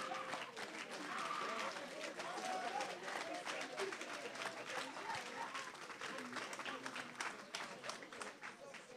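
A large crowd claps and cheers for Jesus Christ of Nazareth at a religious healing gathering in Niort, sustained dense applause with raised voices and whoops mixed in, loud and continuous over nine seconds.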